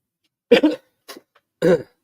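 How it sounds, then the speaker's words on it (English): Three harsh coughs from a single person, close up: two strong bursts with a lighter one between them, separated by brief silences. "I'm still getting over a cough and cold."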